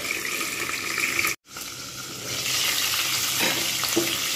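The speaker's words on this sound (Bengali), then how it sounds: "পটলগুলো আমি কিন্তু লালচে করে ভেজে নেব।" Pointed gourd pieces frying in oil over medium heat, a steady close sizzle with stirring, broken by a brief silent gap before the frying noise swells louder again.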